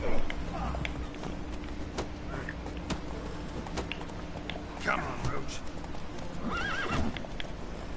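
Roach, the horse in The Witcher 3, clip-clops at a gallop with repeated neighs and whinnies over game ambience, while a voice speaks Spanish over the hoofbeats.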